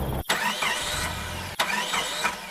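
A car engine sputters and cuts out in an animated horror story, with abrupt choppy bursts and sudden drops, two sharp restart-like surges and rough mid-range engine noise in between, heard alone without talk.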